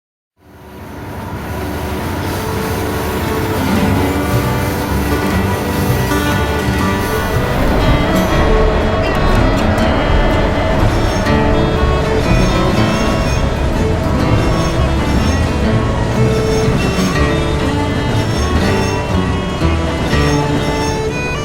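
Trains run continuously in the Rails of Highland Valley video game, a loud sustained rumble of rolling cars and engine that fades in quickly and holds steady for about twenty seconds with no talking.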